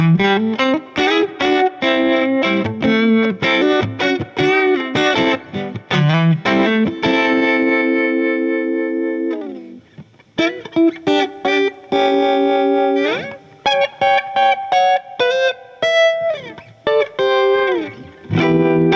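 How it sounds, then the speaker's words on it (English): Electric Telecaster guitar played through a Mint Green Mini Vibe pedal on a slow setting into a Deluxe Reverb amp, alone and loud: rhythmic strummed chords and single-note lines with a swirling, pulsing modulation and reverb tails, pausing briefly midway before resuming. "that's the mint green vibe with the Tele and the deluxe reverb"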